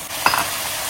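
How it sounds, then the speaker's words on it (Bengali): Onions and capsicum fry in hot oil in a pan for a pav bhaji sloppy joe, with a brief scrape of stirring over a steady sizzle, close and fairly loud. "পেঁয়াজ ক্যাপসিকাম মোটামুটি ভাজা ভাজা হয়ে গেছে,"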